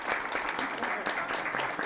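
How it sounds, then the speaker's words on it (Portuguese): Applause from an audience at a digital distribution and startups talk show workshop, dense steady clapping sustained throughout the short stretch, moderately loud. "Gostaria de solicitar uma salva de palmas"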